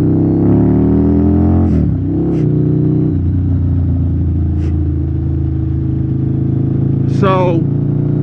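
A Harley-Davidson V-Rod motorcycle rides along at low speed on a dirty, wet road, its engine a loud steady drone with shifting tones and a brief rev near the end. Wind and a rider's voice come through over the engine.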